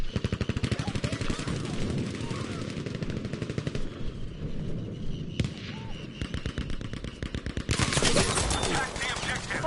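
STG rifle gunfire in a Frontlines first-person shooter match, rapid dense bursts of shots rattling almost continuously, with loud crackling volleys and brief lulls between strings of fire.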